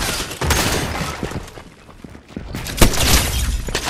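Gunfire in Fortnite with a no-scope sniper rifle shot: dense bursts and sharp cracks spread across the clip, one especially loud impact near the end, with no voices.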